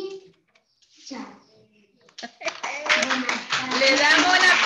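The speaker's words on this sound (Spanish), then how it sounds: "Le damos un aplauso a Agustín." A class of third-grade children claps after a student's talk, scattered taps growing into lively, close applause mixed with a teacher's voice and young voices.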